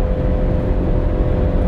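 A motorcycle engine drones loudly and steadily on a highway in Canada, with no pause or change in pitch.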